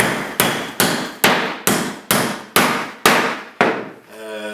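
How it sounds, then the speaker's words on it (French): A Dogyu framing hammer drives a nail into wood with nine loud, evenly spaced ringing strikes close by, each blow decaying briefly before the next, ending with a softer rattling tap. "on est capable d'aller partir notre clou, puis par la suite de l'enfoncer"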